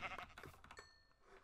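Sheep bleating in the Minecraft video game, a few short bleats heard quietly alongside faint game sounds.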